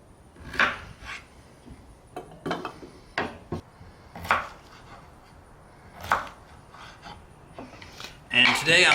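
At a camp, a Buck Max Light knife cuts chicken into chunks, giving a string of close, separate knocks and scrapes against a board at an uneven pace, with a louder clatter at the end and talking in between.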